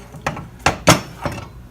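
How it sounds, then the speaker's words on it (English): A metal pan of cinnamon rolls goes into an oven preheated to 350 degrees, with four sharp clanks and clatters spaced over under two seconds, the loudest near the middle. "place your cinnamon rolls in the oven"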